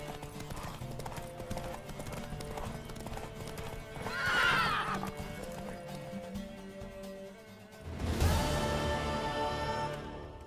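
In the video game The Witcher 3: Wild Hunt, a horse's hooves clip-clop in a quick galloping rhythm, with whinnying partway through and again later, fairly faint over a steady background.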